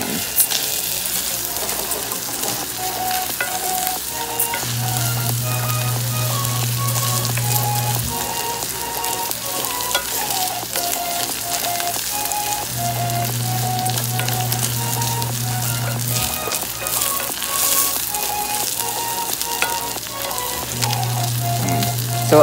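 Rice sautéed in a pan for Filipino pink lugaw congee sizzles and crackles steadily and loud throughout, with light stirring scrapes and background music playing underneath.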